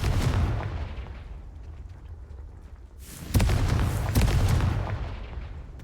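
A Confringo explosion spell is cast in the game Hogwarts Legacy, producing deep, loud booming blasts: one rumbling burst at the start, then two sharper heavy impacts with rolling rumble in the second half.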